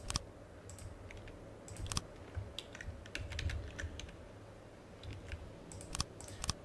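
Computer mouse and keyboard clicks while building a vessel in the game From The Depths, a run of sharp, close clicks in irregular bursts over a low steady hum, with no talking.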